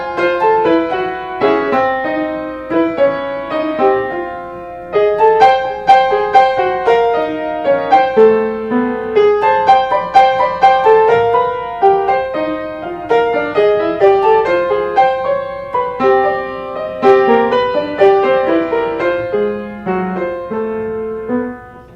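A piano plays the closing bars of a Wolpe piece at a salon concert, the tune carried low in the left hand beneath an accompaniment above, with steady phrases, moderately loud and with no voices.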